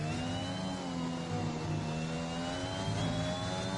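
Racing car engine screaming near its limit in a racing video game at Imola, a steady high-pitched drone with a slowly rising pitch, loud and close throughout.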